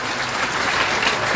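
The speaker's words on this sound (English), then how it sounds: "give him a round of applause" An audience at a regional government jobs event in Guyana applauds steadily, a dense, loud burst of clapping filling the whole moment.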